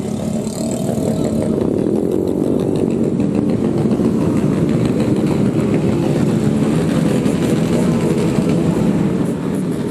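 A motorcycle gang riding in convoy through the streets of Medan, North Sumatra, the engines forming a loud, steady, continuous roar of many bikes close by, with no voices over it.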